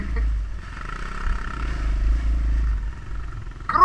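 Motorcycle engine held at a rough, steady low idle-to-rev drone in woodland, a sharp rising rev flaring at the very end.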